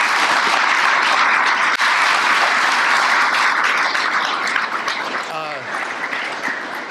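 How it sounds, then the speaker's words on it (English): Audience applause at a Burbank Fire Department change-of-command ceremony, a loud, steady roar of clapping that carries for several seconds and then thins out, with a brief voice over the tail end. "Chief Reynolds out in Ventura and Chief Davis, who's here, a round of applause"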